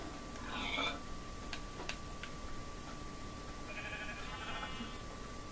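Sheep bleating in the video game Minecraft, two short bleats separated by a few seconds, over a steady background hum with faint ticking clicks.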